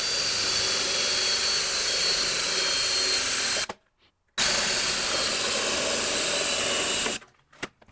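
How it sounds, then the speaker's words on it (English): Pilot drill boring holes in a mount for a curvy seat, a loud, steady high-pitched whine lasting several seconds, a brief silence, then a second equally long burst before stopping. "I'll use the pilot drill."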